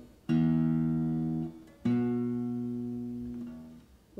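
A single string divided in a 3:2 ratio, plucked twice to sound a perfect fifth: two clear, bright tones about a second and a half apart, each ringing and slowly fading in a quiet room.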